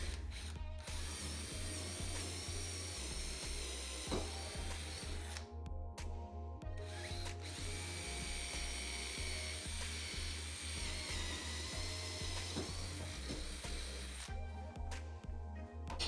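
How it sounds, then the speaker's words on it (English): Power drill boring holes for a trailer coupler on a four-wheeler trailer build, a steady mechanical whirring grind with a ratcheting texture that runs continuously and fairly evenly throughout, close and alone. "Once my holes were drilled, I slid the coupler back onto the end"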